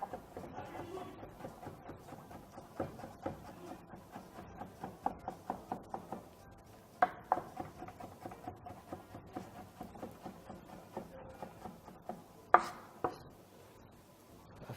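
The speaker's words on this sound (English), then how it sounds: "After that, I'm going to use some gourgettes. Some of you call them the baby marrow. I'm going to slice them." A kitchen knife slices courgettes (baby marrow) on a board during a cooking show, a steady run of quick close taps, some sharper knocks standing out, with no one talking.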